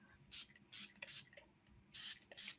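A handheld spray bottle misting water in five quick, hissing bursts at an uneven pace, each short spritz close and clear against a quiet room.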